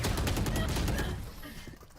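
Gunfire bursts in the Valorant video game, including shotgun shots, sound as a dense, loud barrage that tails off toward the end, with a voice faintly present.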